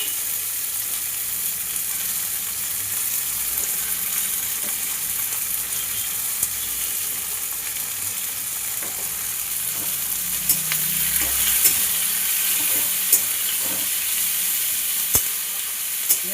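Onion stalks fry gently in hot oil with slit green chillies, a steady soft sizzle and hiss throughout, with occasional faint stirring clicks and no voices.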